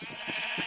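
Sheep bleating in a Harry Potter–themed video game near a Quidditch pitch, a few short wavering bleats in quick succession, close and fairly loud.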